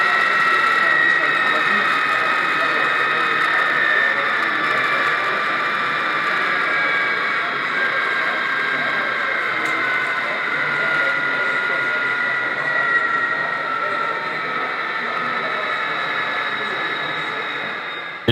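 A continuous whining engine drone from a model locomotive's sound system, recorded from the real locomotive, with a high-pitched mechanical tone holding steady throughout, sounding electronic and close, without breaks.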